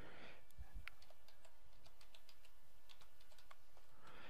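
Clicky keystrokes tapping out a short entry on a computer keyboard, an administrator login typed during a Microsoft CRM 2011 multi-server setup; quiet, irregular taps close by with no talking.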